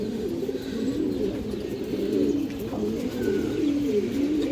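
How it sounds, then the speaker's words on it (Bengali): Blue-patterned pigeons and their chicks coo in a steady, overlapping chorus of low, throaty murmurs that carries on without a break, close and fairly loud. "এই যে দেখেন কাজ করা কবুতর বাচ্চা, নীলা কাজ করা কবুতর বাচ্চা।"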